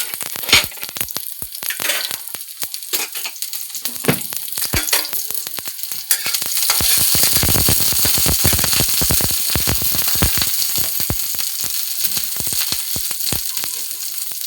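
Adobong pako, fern greens, frying in oil with a dense, steady crackle and sizzle, soft at first and growing louder and fuller about halfway through, with occasional sharper pops and stirring clatter.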